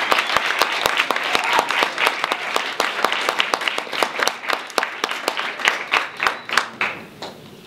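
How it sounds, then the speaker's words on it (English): Audience applause follows a presentation to Deputy Minister Nomaindiya Mfeketo, with loud, sustained clapping from a crowd that thins toward the end, leaving a few distinct individual claps. "I think they deserve a round of applause."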